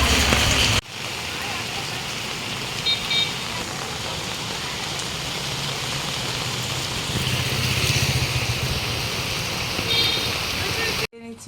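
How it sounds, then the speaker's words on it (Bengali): Heavy rain on a wet day pours down as a loud, steady broadband hiss that fills nearly the whole stretch, close and constant with no clear breaks. "খুব বৃষ্টি হচ্ছে।"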